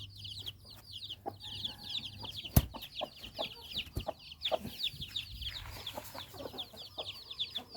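Taiwanese fighting roosters cluck in a rapid, steady chatter at moderate distance, joined by scattered knocks and taps in the background.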